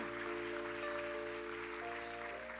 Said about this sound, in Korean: 오은혜, 유지성, 김예림, 김범희 우리 좀 축복하며 박수합시다.